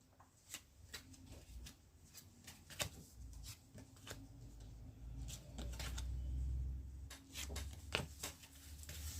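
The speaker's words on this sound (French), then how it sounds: "Mais on va quand même tirer des cartes en plus." Tarot cards are shuffled and drawn, giving a run of crisp, close riffles and slaps with a soft papery rustle between them, faint and without talk.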